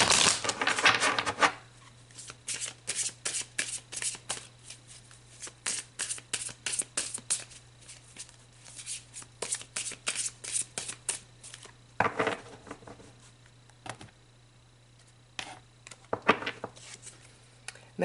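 Tarot cards being shuffled by hand, a long run of quick papery riffles and soft flicks in close bursts, with a pause near the middle before more shuffling, close and fairly quiet with a low steady hum beneath.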